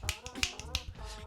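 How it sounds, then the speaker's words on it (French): Crisp finger snaps land in a steady beatbox rhythm, about four sharp clicks over a low, bassy vocal groove. "Donc on va juste faire un claquement de doigts"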